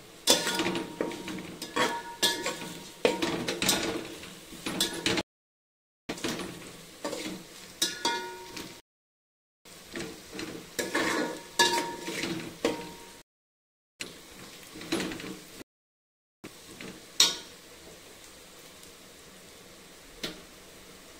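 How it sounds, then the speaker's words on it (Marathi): Masala spices fry and sizzle in a pan for masala bhat while a spoon stirs and scrapes in bursts, with clinks of utensil on metal and short pauses, close and fairly loud. "मसाला थोडे तळू द्यायचे"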